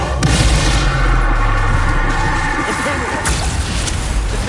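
A Confringo blast in Hogwarts Legacy, a loud booming burst that fills the clip with dense rumbling noise and a whooshing edge, with a voice casting the spell over it.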